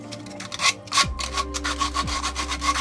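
Sandpaper rubbing on a Baby Yoda figure, a steady series of close, raspy strokes repeating in an uneven rhythm, with a low machine hum running underneath and no talking.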